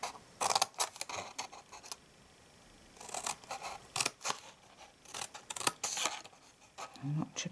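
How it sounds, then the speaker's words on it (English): Scissors snipping notches into card stock while making a handmade gift box, with several short crisp cutting bursts in separate clusters, close and fairly loud, with no speech. "Same this side, and notch a piece out."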